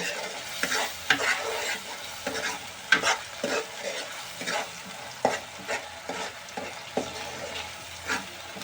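Ginger and garlic sizzle and fry in a pan while a spoon stirs and scrapes them in frequent irregular strokes, close up with a constant low crackle underneath.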